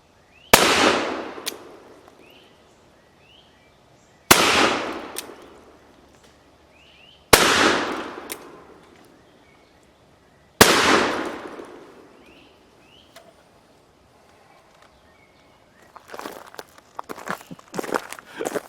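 Four loud, widely spaced gunshots from a Cimarron London Model 1851 Navy black-powder revolver fired outdoors, each sharp crack followed by a long decaying echo, with scuffing footsteps and handling noises at the end.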